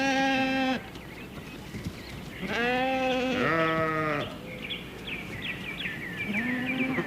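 Several loud bleating calls from sheep on a high-country station muster, one near the start and a longer overlapping pair mid-way, with faint chirping in the background.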